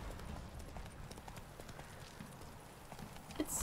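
Horse hooves clip-clop at a steady walking rhythm in The Witcher 3, a quiet, even patter under faint background game ambience, with a slightly louder thud near the end.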